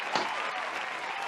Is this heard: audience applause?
yes